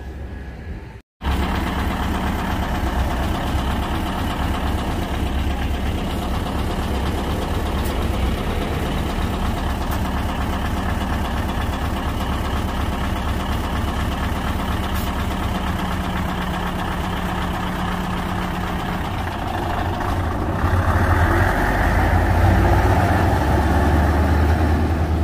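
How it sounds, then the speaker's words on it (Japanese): A Mitsubishi Fuso bus sits idling at close range, its engine giving a steady low rumble with a faint rhythmic knock that runs unbroken and grows slightly louder near the end. "三菱のバスが来たのでもうすぐだと思います。"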